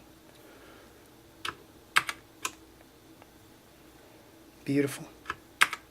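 Typing on a Motospeed CK101 RGB mechanical keyboard: a few separate, sharp key clicks spaced irregularly, then a short burst of clustered strokes and two more taps, close and fairly quiet, with a brief spoken word.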